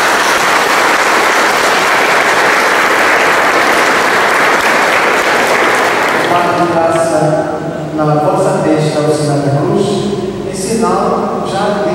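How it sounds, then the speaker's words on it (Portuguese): A church congregation applauds at a baptism, loud continuous clapping for about six seconds, then softer clapping continues under music and voices. "Uma salva de palmas."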